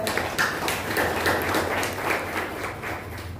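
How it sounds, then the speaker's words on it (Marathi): Sustained audience applause at a Buddhist full-moon gathering, a dense steady wash of many hands clapping at moderate volume for a few seconds without talk. "तेव्हा गजबाज सरांच्यासाठी एकदा जोरदार टाळ्या होत्या"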